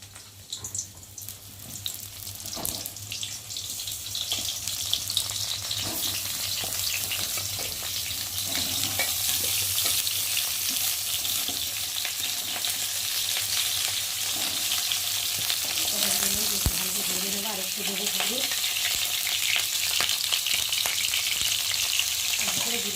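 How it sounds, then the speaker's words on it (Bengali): Pointed gourd (potol) pieces fry in hot oil in a home kitchen, giving a steady, close sizzle that runs throughout, with a few faint stirring and utensil knocks and no talking. "তেলটা একটু গরম হবে আর এখন আমি পটলগুলো দিয়ে ভেজে নেবো"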